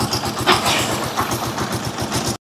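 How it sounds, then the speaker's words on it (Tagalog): A car engine idles steadily just after an oil change with Shell Advance oil, a low even rumble with a regular pulsing throb, close and continuous with no talk, cutting off abruptly at the end. "Matining na yung ating makina."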